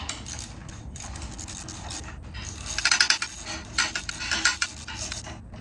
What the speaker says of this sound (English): You can go ahead and tighten it down all the way.